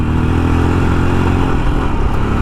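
A Royal Enfield Scram 411 motorcycle accelerates, its engine droning loud and steady close by with a rough mechanical clatter throughout.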